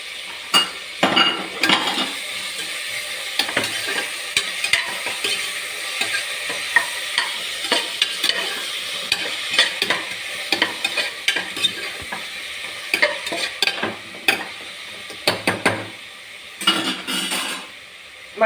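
Ginger garlic paste frying and being stirred in a pan, with steady sizzling and repeated scraping and clinking of a spoon against metal, close and alone with no voices.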